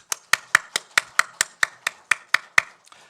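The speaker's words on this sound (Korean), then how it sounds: "우리 힘차게 박수하십시다." Church congregation clapping together during a Sunday worship service, about a dozen sharp, evenly spaced claps in a steady rhythm, fairly close and loud, with no talk over them.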